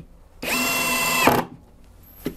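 A Dong Cheng 18V (20V Max) cordless impact wrench rated 180 Nm runs in one loud, close, whining burst of about a second, then falls away, ending with a faint click.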